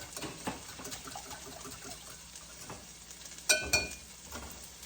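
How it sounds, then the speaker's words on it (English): Soft scraping and swishing of a utensil stirring thick mushroom soup in a pot, with a quiet sizzle beneath and a couple of sharper clinks. "Stir your mushroom soup up."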